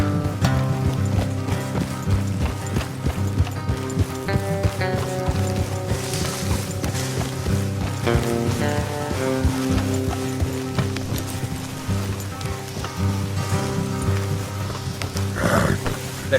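Horses in the video game Red Dead Redemption II, their hoofbeats and snorts blended into a dense, steady game soundscape with music-like tonal layers and continuous background noise throughout.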